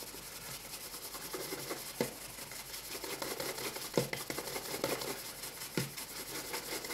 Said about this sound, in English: I've just buffed off the final of the three coats of the wax polish